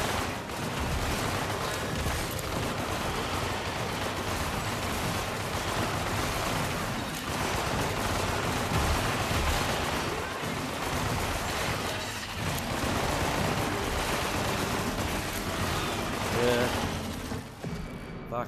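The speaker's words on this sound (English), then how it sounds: "I emptied a complete mag." Video game gunfire as a full magazine is emptied, with dense, continuous bursts of shots and booms layered with mechanical clatter, loud and sustained throughout, with players talking over the shooting.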